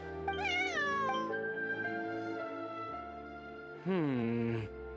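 A cat meows in the video game Genshin Impact, giving two drawn-out, wavering cries, one near the start and a louder one toward the end, over steady background game music.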